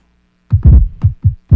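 Two deep kick drum samples on an Akai MPC, one slightly higher and one lower, then a few more punchy low thumps in a loose rhythm, loud and close with no voices.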